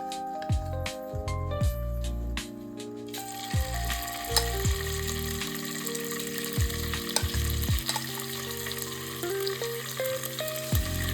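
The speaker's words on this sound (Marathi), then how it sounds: "आता आपण याच्यात पनीर तळून घेऊयात" Paneer cubes sizzle and fry in hot oil in a pan. The frying is loud and continuous, with repeated scraping and stirring clunks from a utensil throughout.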